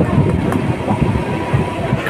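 Train rolling on the tracks near Sealdah, a loud close rumble with a rhythmic clickety-clack of wheels over rail joints.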